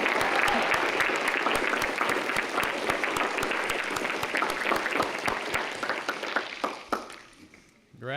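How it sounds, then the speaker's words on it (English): Sustained applause from a large audience at a school commencement ceremony, steady dense clapping that swells, then thins and fades toward the end. "let's also give a round of applause for the families, mentors, coaches, and teachers who helped them get here"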